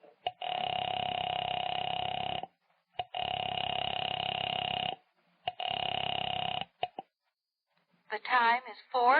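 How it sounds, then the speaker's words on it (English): A telephone in a radio drama sounds as a steady electronic line tone in three long, evenly separated bursts with short silences between, followed by a brief voice at the end. "went to the phone and dialed"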